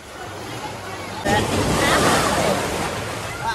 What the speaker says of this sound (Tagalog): Kasi umaalon na siya ng malalaki